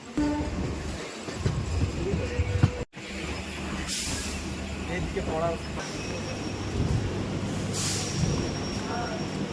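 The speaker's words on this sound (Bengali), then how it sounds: "শেয়ালা ঢুকছে আমাদের ট্রেন" A train pulling into Sealdah station rumbles and clatters continuously on the rails, with hissing bursts like air brakes and a brief break in the sound early on. Voices can be heard among the noise.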